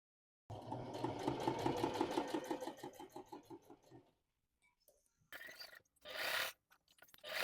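Sewing machine stitching straps onto a McCall's M8195 dress, a fast, even mechanical whir of needle strokes for a few seconds, then stopping, followed by brief rustling and handling noises, close and clear.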